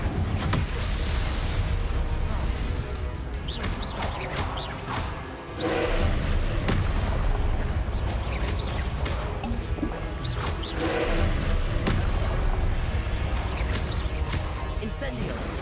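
Confringo and Incendio spell blasts in the video game Hogwarts Legacy burst repeatedly with whooshing, crashing impacts over a dense, loud game soundscape, several sharp bursts spaced across fifteen seconds.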